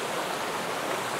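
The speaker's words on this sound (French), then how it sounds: "Petite cascade fort sympathique" A small waterfall, continuous broadband rush of falling water filling the whole stretch, steady and close with no voices.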